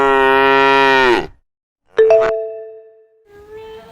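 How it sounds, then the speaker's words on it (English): A cow lets out a long, loud, low moo that falls away at the end, followed after a pause by a bright chime tone. "This is cow."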